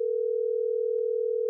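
A steady, unbroken telephone dial tone hums on one pitch as a call is being placed, fairly clear and alone with no voices over it.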